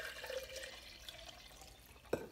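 Water runs into a kombucha jar to rinse it out, a soft, close, steady trickle and splash with one sharper clink near the end.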